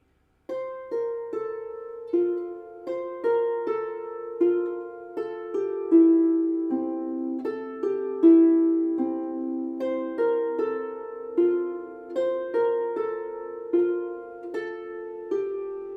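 A harp plays a steady melody in an even rhythm, each plucked note ringing and decaying, with no voices.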